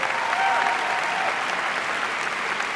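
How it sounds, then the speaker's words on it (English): Audience applause for parents at a high school graduation ceremony in an auditorium, a steady wash of clapping from a large crowd, moderately distant. "So give a round of applause to the parents,"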